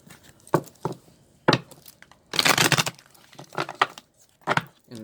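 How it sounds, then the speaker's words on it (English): A tarot card deck is shuffled up close in several short, crisp bursts of riffling and papery snapping, separated by brief pauses, with one longer flurry in the middle. "Now taking this Knight of Swords and this deck and giving it another little shuffle, this time in front of you guys."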